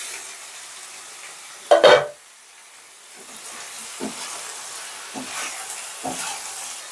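Water is poured over potatoes in a hot pan for boiling, giving a short loud hissing burst, then a faint steady simmer with occasional soft bubbling stirs.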